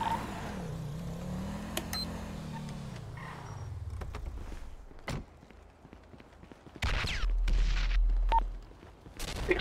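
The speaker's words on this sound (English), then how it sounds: "Explosions." Explosions and gunfire in the police video game FivePD during a door-breaching raid: a low rumbling blast that fades out, scattered sharp reports, then a heavy sustained roar near the end, with faint voices in the background.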